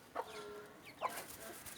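A few sharp clucking bird calls, each near and fairly loud, separated by short pauses, with soft chirps trailing between them.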